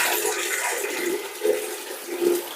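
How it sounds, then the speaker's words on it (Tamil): Water gushes from a tap into a bucket with a steady rushing, splashing sound, close and moderately loud, with slight surges as the flow churns. "இப்போ தண்ணி மிச்சத்துக்கு திறந்து விட்டுடலாம்."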